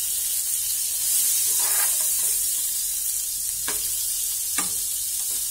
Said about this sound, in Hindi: पैन हमारा गर्म होकर डाल देंगे इसमें हम बटर और इसे हम मेल्ट हो जाते हैं।